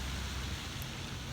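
Steady rain falling in Paris, a continuous even hiss of drops on surfaces, moderately close and unbroken, with no voices.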